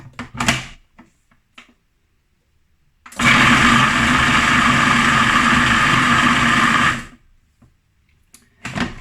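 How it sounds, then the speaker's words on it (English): A food processor whizzes vegetables, stalks and leaves included, for a vegan cottage pie. It gives one loud, steady roar of about four seconds with quiet handling noises before and after. "I think I'll have to do it in batches because it's not gonna all fit in my food processor"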